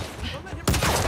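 An enemy's gunfire in The Last of Us Part II, played on Survivor difficulty, breaks out as a sudden loud burst partway through, following a stretch of quieter game ambience with a voice underneath.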